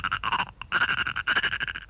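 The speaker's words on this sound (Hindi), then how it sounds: "मेंढक की आवाज।" A frog croaks in rapid pulsing bursts close by, three rattling runs separated by short pauses, loud and alone.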